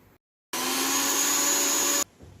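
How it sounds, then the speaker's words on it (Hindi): A mixer grinder whirs loudly and steadily for about a second and a half as it grinds roughly ten grams of ajwain seeds into fine powder, starting and stopping abruptly with quiet moments on either side. "तकरीबन 10 ग्राम अजवाइन मैंने लिया है और उसको हमने मिक्सी में ग्राइंड कर लिया"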